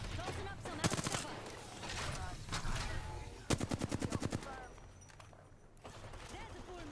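Gunfire in a video game: two short bursts of rapid automatic shots, fairly loud, over a busy background of game noise with some voice.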